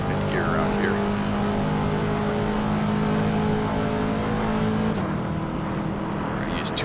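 A Corvette C7 in the Assetto Corsa racing game on a warm-up lap, its engine droning loud and steady as it pulls through the gears, with a gear shift about two thirds through.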